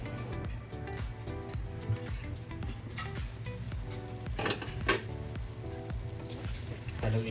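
Chicken adobo simmering in coconut milk in a pan, a steady close sizzle and bubbling with light stirring scrapes and clinks throughout, some background music faintly underneath.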